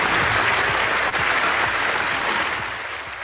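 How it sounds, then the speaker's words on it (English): An audience gives a round of applause, a thick burst of clapping from many hands that stays full for a few seconds before tapering off. "Give her a round of applause, everybody."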